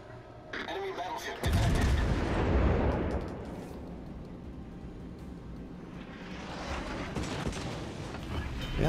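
Heavy naval gunfire in World of Warships: Legends while a T5 Pensacola cruiser takes hits, a loud booming burst followed by a long rumbling roar that stays dense and sustained.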